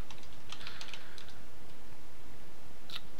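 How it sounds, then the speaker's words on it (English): Keys clatter on a computer keyboard in a quick burst of close clicks, then a pause and a single final keystroke like hitting enter, over a faint steady hiss. "we'll type host name, capital S1, and hit enter"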